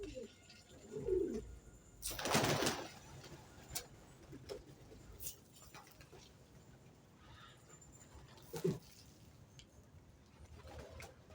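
Pigeons cooing while being fed, soft low coos and rustling close by, with a few louder flutters or knocks and someone speaking intermittently.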